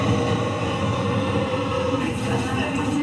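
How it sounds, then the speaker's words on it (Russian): A London Underground train rumbles through a metro station with a continuous loud roar and rattle, while faint voices carry in the background. "Мы пришли в метро"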